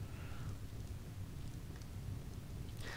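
Steady rain with low rumbling thunder fills the whole stretch of a Skyrim game scene, a dense constant wash with a brief brighter burst near the end, no voices present.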